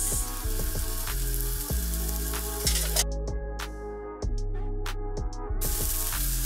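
Onions frying in a pan for prawn noodles, a continuous close sizzle with the scrape of stirring, broken by a few brief sharp ticks and taps partway through, fairly loud with no talking.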